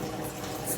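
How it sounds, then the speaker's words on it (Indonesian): Beef stew with soy sauce, Taiwanese Lu Niu Rou, boils in a covered pot, giving a steady, close bubbling rumble for under a second with no voices. "Biarkan mendidih dulu."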